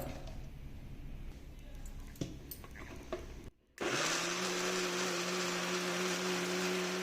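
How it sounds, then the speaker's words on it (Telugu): An Indian mixie grinds coconut batter: faint knocks and handling first, a short silence, then the motor switches on into a loud, steady whirring whine that runs to the end. "బాగా కాటుకులాగా మిక్సీ పట్టుకోవాలి"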